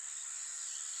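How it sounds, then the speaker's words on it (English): Crickets forming one layer of a recreated nature ambience soundtrack for an animated film, a steady high hiss-like trill held evenly for the whole second at low level, with no other sounds on top. "Crickets."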